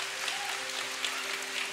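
A church congregation at a prayer gathering applauds in a brief burst of dense, steady clapping, moderately loud, with a sustained tone faintly underneath.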